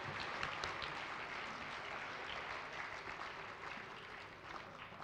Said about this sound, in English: one more round of applause for our 5th and 6th grade concert band